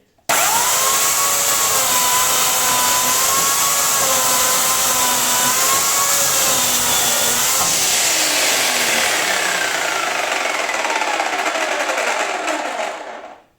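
Bosch Universal Chain 35 electric chainsaw running loud and close at a steady high whine while cutting wood, pitch wavering under load, then winding down and stopping near the end.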